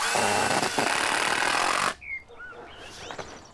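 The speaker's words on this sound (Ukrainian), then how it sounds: "Шуруп. Шуруповерт. Наживляєш прикладаєш і одним різким рухом." A cordless screwdriver drives a screw in a short, loud burst of whirring motor noise that stops abruptly, leaving a quiet room with a few faint clicks and small sounds.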